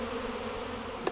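A steady swarm hum fills the air as honeybees with orange stripes make a strong spring cleansing flight around their hives on a warm +20 day; the buzzing is dense and continuous, with one bee zipping close near the end.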